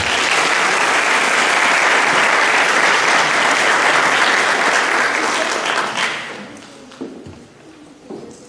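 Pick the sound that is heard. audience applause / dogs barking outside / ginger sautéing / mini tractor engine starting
audience applause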